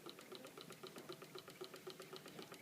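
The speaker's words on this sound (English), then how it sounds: "Power of the Stirling engine. Super quiet" An antique Stirling engine runs over a candle flame, giving a faint, steady mechanical ticking that repeats about four times a second, quiet and close, with no voices.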